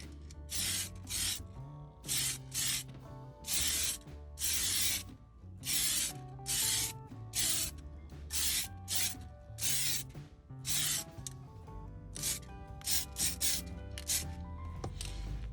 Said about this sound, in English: I'm going to put some paint on it initially, very light. Make sure this works.